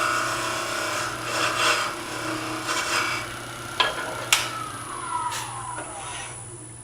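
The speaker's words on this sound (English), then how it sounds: "I'm going to take sandpaper and rough this up" Sandpaper rubs a ceramic bead to give it tooth for epoxy, making soft, steady rasping strokes that repeat through the clip, joined near the end by a few sharper taps and scrapes close by.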